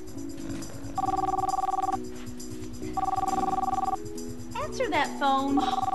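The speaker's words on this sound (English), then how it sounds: "Answer that phone." A telephone rings in two clear bursts of electronic trilling, about a second each with a pause between, over soft background music; a short spoken exchange follows near the end.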